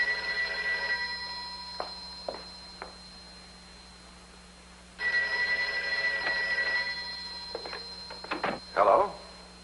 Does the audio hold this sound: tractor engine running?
no